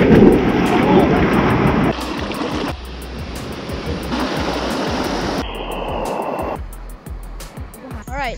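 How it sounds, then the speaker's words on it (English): A huge waterfall in a mountain rainforest at Gunung Pulai in Johor, Malaysia, roaring as a loud, dense rush of falling water throughout, with the level dropping and shifting at several points. "This is probably like the biggest waterfall I've ever seen."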